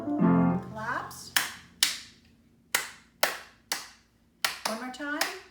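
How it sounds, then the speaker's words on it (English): Hand claps land one by one along to a spiritual song in a grade 5 music lesson, about eight crisp, evenly spaced claps, close and loud, with a singing voice briefly at the start and between claps. "Claps."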